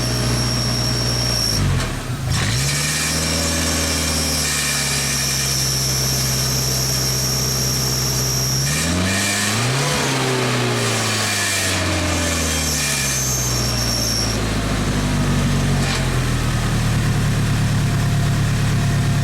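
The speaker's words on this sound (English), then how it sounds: "you can definitely rev up, so when you give it command to full throttle, the thing works" A Genie machine's engine under governor control, throttled up from idle to full speed, its drone sliding upward in pitch twice and holding a loud, steady roar between changes.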